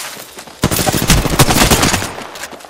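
Rapid automatic gunfire in a video game, a loud sustained burst of closely spaced shots starting abruptly after a quiet lead-in and continuing to the end.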